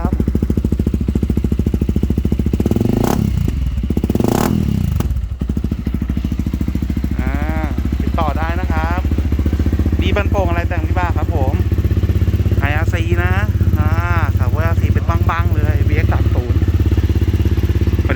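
A Honda CRF300L dirt bike engine idles steadily with a couple of sharp throttle blips early on, while people chat nearby over the running motor.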